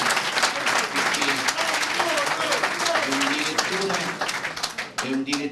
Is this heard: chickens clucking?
no